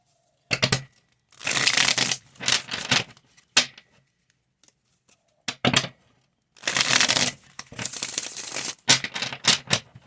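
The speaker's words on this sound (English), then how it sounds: "I might just do 2 more shuffles." Tarot cards are shuffled in several quick riffling bursts, close and crisp, separated by short pauses of near silence.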